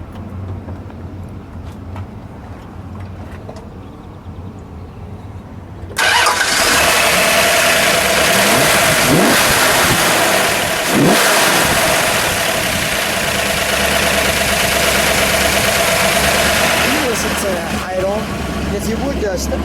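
A 1968 Plymouth GTX with a 426 Hemi and solid lifters fires up after a quiet start, then settles into a loud, lumpy idle with sharp revs rising over it, while people talk nearby.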